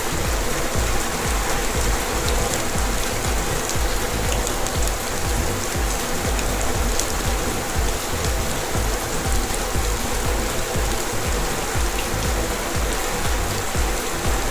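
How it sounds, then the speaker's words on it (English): Steady rain falling outdoors, a dense continuous patter and wash of drops on surfaces, close and even throughout with no talking. "Sorry about the noise, it's actually raining in my area,"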